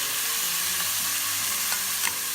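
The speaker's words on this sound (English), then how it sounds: "So I'm gonna throw some mushrooms. I'm gonna cook them a little bit." Mushrooms and onions cook in a pan for lentil soup, giving a steady close sizzle with a few soft stirring scrapes and no talking.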